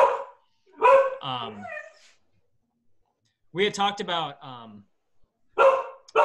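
A dog barks in short bursts at home during a community committee meeting call, a few close yips and barks alternating with a person speaking.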